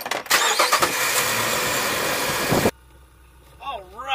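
A car engine cranks and catches, then runs loud and steady for a couple of seconds before cutting off abruptly, leaving a quiet interior where a faint voice-like tone rises near the end.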